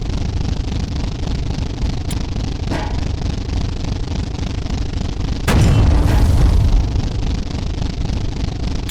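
A tank cannon in the Sprocket game fires one loud, booming shot midway, heard over a constant low engine rumble and a few fainter thumps.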